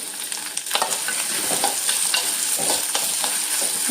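Ginger, green chili and curry leaves sautéing in a pan for moru curry, a loud continuous sizzle with repeated scraping stirs and ladle clinks, no voices.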